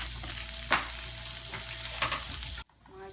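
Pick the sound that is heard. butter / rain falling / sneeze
butter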